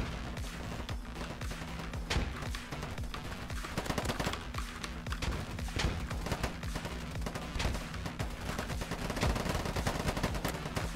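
Gunfire in the online shooter Polygon rattles in rapid automatic bursts with sharp single shots, loud and continuous, mixed with distant battle noise and no talk.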